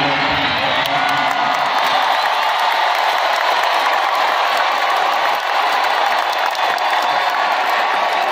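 A huge crowd at a national solidarity rally in Gelora Bung Karno stadium, Jakarta, applauds and cheers: a dense, loud, continuous roar of clapping and shouts that fills the whole stretch.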